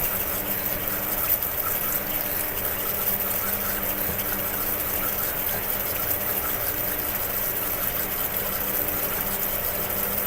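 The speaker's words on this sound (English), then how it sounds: "So for that, we're going to have full flow of water." Water pours at full flow onto a chaotic waterwheel, a steady, dense rushing and splashing that stays constant throughout, with a faint low mechanical hum beneath.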